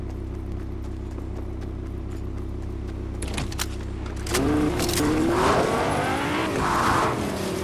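A car drives in the Fortnite video game, its steady engine drone shifting into a louder rising rev partway through, with busy game effects layered on top.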